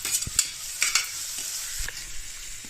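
Chopped large onion and curry leaves frying in hot oil, a close, continuous sizzle broken by several sharp stirring scrapes.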